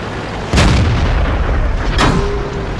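Two heavy tank cannon shots in World of Tanks boom out about a second and a half apart, each loud blast trailing into a low rumble over steady battlefield noise.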